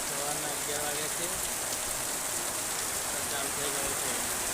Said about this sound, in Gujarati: બહુ વરસાદ આવી ગયો